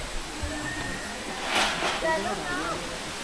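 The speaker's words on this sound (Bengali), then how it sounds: "ঝর্ণার আওয়াজ শুনতে পাচ্ছি" Rushing waterfall at Rock Garden in Chandigarh, a steady broadband roar heard from a moderate distance, with people talking over it.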